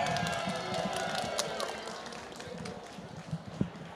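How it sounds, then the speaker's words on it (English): Applause for all teams at a FIRST Tech Challenge robotics competition: a moderate, scattered crowd clapping with some cheering, fading slightly and ending in a few sharper isolated claps. "How about just a great round of applause for all the teams?"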